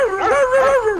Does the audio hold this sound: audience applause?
no